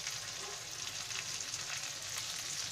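Chopped tomatoes and vegetables for tawa pav bhaji fry on a hot tawa with a steady, close, even sizzle and a faint stirring texture. No voices are present.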